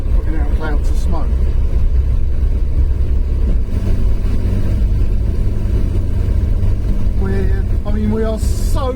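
A carburettor car engine runs with an out-of-tune, retarded ignition timing, a loud continuous rumble throughout, while someone talks over it.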